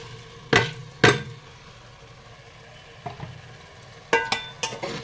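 Washed rice is stirred into hot oil for khichuri, with a faint sizzle under sharp, irregular scrapes and knocks of a utensil against the pan, close and clear.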